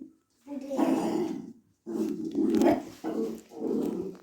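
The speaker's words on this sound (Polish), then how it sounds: "niestety on jest strasznie, jak słyszycie, on już podwarkuje" A dog growls in low, rumbling bursts, four or five in a row, close and fairly loud with short gaps between.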